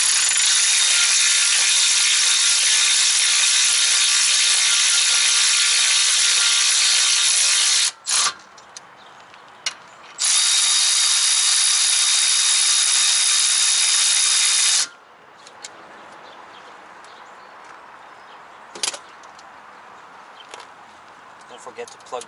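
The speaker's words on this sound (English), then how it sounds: "you're going to use the electric ratchet" Electric ratchet working on the Brembo brakes of a Porsche Panamera, a loud, steady, high whirring run that stops briefly and restarts before falling quiet, followed by faint scattered clicks and handling noises.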